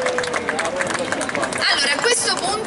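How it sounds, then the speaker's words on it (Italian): Audience applause at a Corrida talent show in Sant'Arpino, a broad wash of clapping from a crowd with murmuring voices and background chatter throughout. "un applauso"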